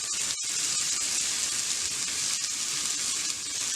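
Egg pepper masala fries in a pan over a low flame, a constant soft sizzle that runs evenly throughout with only a brief dip near the start.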